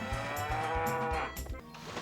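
Repeated cow moos in a synthesized tone from the video game Harvest Moon over a looping background tune, several calls in quick succession, loud and clear with no talking.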